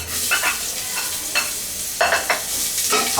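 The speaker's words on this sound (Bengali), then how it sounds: "এর মধ্যে আমি দিব হচ্ছে একটু পেঁয়াজ কুচি কুচি করা সেইটা" Chopped onion is stirred into hot oil in a pan while cooking Kashmiri pulao, giving a steady sizzle broken by several close scraping stir strokes. No one speaks.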